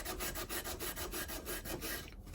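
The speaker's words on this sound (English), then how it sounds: "Trying to get all that stuff off there with a little WD-40 and the old Scotch-Brite pad." Steady back-and-forth scrubbing of a rusty cant hook with a Scotch-Brite pad and WD-40, a rapid rhythmic rasping of about ten strokes that fades out at the end, close and alone.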